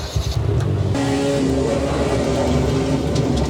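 A car engine in Assetto Corsa EVO fires up and settles into a loud, rough idle, with a short burst of noise at the start.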